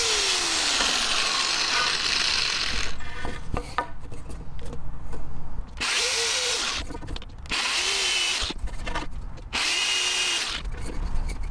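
A power drill with an 11/64 bit bores pilot holes into boards for a tool box backsplash, giving several loud whining bursts separated by short pauses, each one spinning up and cutting with a rough grinding edge.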